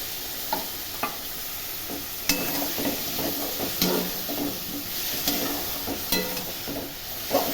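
Grated garlic, green chili, turmeric and spices sauté in a pan with oil, a close hiss and sizzle broken by repeated spatula stirs and scrapes in an uneven rhythm.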